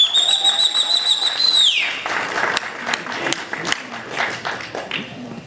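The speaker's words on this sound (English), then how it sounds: "let's get a big round of applause for none other than Gervonta" Audience at an MGM Grand boxing undercard press conference applauds and whistles for boxer Gervonta Tank Davis. A long, sharp two-finger whistle sweeps downward over steady clapping, and the clapping goes on with scattered claps and shouts.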